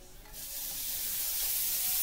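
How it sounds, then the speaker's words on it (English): Bacon sizzles steadily in a hot pan, a bright crackling hiss that starts suddenly and grows slightly louder, with no voices. "I'm going to go ahead and toss my bacon in. Listen to it, ready?"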